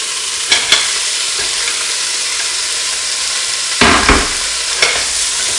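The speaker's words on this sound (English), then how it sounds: "Let's go ahead and add our ham. We're going to saute that for a while" Ham sautes in a pan, a steady close hiss of frying with a few sharp clacks and scrapes of a utensil stirring, no talking.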